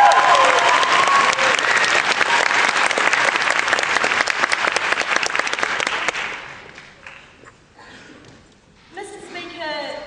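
Loud, steady audience applause at a university debating competition, lasting about six seconds before fading, followed by a speaker beginning to talk.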